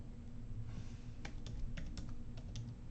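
Keys on a computer keyboard are tapped in short, quiet bursts of separate clicks over a low steady hum, with no one speaking.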